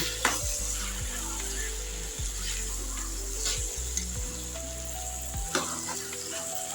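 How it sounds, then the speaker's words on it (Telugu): Ingredients with turmeric and salt frying in a pan for bottle gourd curry, a continuous close sizzle broken by several sharp clanks and scrapes of stirring, with a low steady hum underneath and no voices. "ఇది ఒక 2 నిమిషాలు ఫ్రై చేద్దాం"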